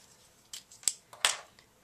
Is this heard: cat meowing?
no